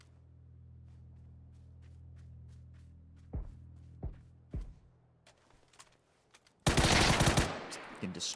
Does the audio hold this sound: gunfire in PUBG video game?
yes